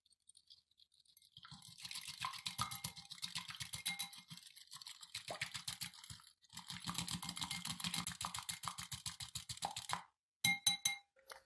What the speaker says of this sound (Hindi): अंडे हमने फेंट लिए।